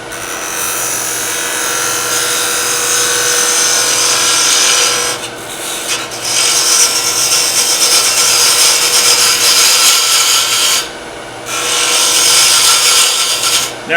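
A wood lathe turns and shapes the outside of a miniature piece, giving a steady close scraping, rasping cut that drops out briefly twice before carrying on.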